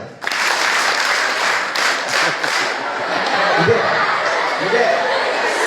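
A crowd applauding, with many hands clapping in a loud, dense burst that settles into steady clapping, and a little laughter mixed in.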